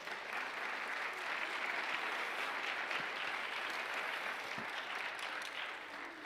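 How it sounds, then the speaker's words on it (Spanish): A church congregation claps steadily and evenly throughout, a sustained round of applause without talk. "dale un aplauso a Dios porque Él es bueno"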